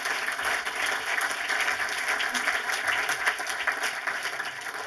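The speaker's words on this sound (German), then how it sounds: "das ist, glaube ich, ein Applaus." Steady applause from an audience at a film event, many hands clapping in a dense, even wash that holds for several seconds without a break.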